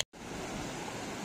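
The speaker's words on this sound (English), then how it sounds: "You can hear the sound of rushing water far off into the distance" Steady broadband rush of river water near Moraine Lake, a continuous even roar with no voices, starting abruptly after a brief silent gap.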